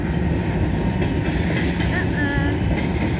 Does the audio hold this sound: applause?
no